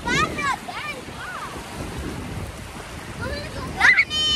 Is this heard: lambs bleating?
no